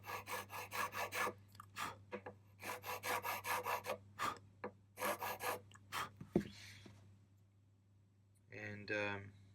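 A file rasps back and forth in short repeated bursts, cutting string slots into an acoustic guitar nut, with a steady low hum underneath and a brief voice near the end.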